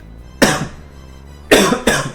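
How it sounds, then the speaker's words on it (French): Three harsh coughs ring out close by, one and then two more in quick succession, with quiet pauses between them. "Pardon, j'ai un peu la toux."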